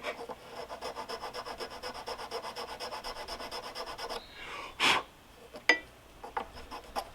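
A metal nick on a Toro Timemaster mower's blade belt drive is filed to deburr it, giving steady rhythmic rasping strokes for about four seconds, then a few separate scrapes and knocks, close and fairly quiet.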